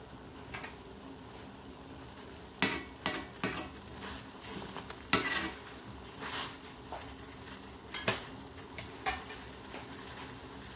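Lemon being zested over green tea: quiet scraping and light taps of a zester or utensil, several sharp clicks spaced irregularly over a soft, steady background.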